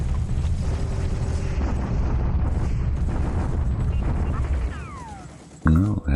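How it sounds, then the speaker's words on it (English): Land bombardment in the War Plan Orange strategy game rolls on as a continuous, heavy rumble of explosions, easing near the end before a sharp final burst. "We'll have the land bombardment."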